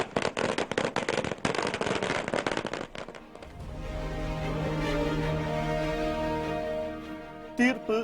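Firecrackers burst in a rapid, dense string at a street celebration in Tamil Nadu, loud and close, then give way to a lingering hum with a brief final crackle.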